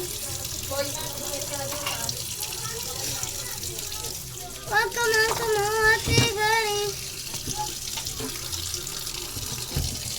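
Water runs steadily from a kitchen faucet that is being cleaned, a continuous splashing hiss throughout while a child and an adult talk over it.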